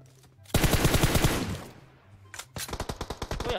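Automatic weapon fire in the mobile shooter PUBG Mobile, a loud rapid burst of shots, a short pause, then another quick rattling volley.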